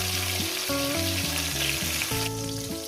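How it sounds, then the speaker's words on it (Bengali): Tomato fries in a pan for an egg dish, giving a steady, continuous sizzle that is fairly loud and close, with a tonal melody playing alongside throughout. "টমেটোটাকে দিয়ে দিলাম আমি এক মিনিট ভেজে নেব"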